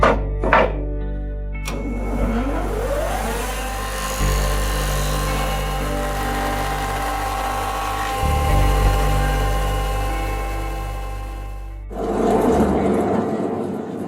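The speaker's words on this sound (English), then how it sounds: "Now I'm going to thickness this piece of wood for the two rockers." A thickness planer feeds a 55 mm piece of wood down toward 40 mm for rocking chair rockers: the motor spins up, runs with a steady loud whine and cutting roar for about ten seconds, then the pitch shifts as the board clears and the machine winds down.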